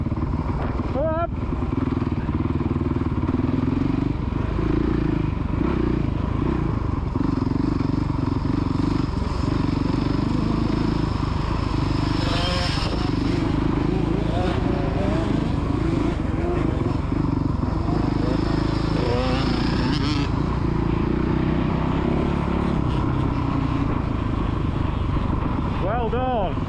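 A child's motocross bike runs steadily on a dirt track, its engine droning and revving throughout. An adult calls out encouragement over the engine noise.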